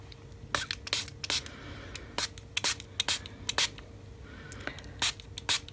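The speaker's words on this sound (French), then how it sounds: "Donc, spray noir pastel black." Short hissing bursts of black pastel spray paint from an aerosol can, a dozen or so quick sprays at irregular intervals, close and fairly loud against a quiet room.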